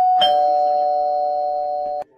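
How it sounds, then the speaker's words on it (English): A single doorbell chime rings out clearly, a sustained electronic tone that holds steady for about two seconds before cutting off, with no other sounds. "Doorbell."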